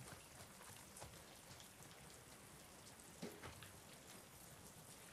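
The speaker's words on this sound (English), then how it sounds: "Let's get out of the rain." Steady rain in The Last of Us Part 2 hisses evenly throughout, with scattered louder drops pattering on a surface and no voices.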